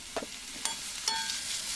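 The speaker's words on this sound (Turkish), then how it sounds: "Tavaya zeytinyağı, sıvı yağ karışımı koydum ve bir tane yemeklik doğramış olduğum soğanı kavurdum." Chopped onion fries in a pan with a mix of olive oil and vegetable oil, a quiet steady sizzle broken by a few sharp clicks and scrapes of stirring.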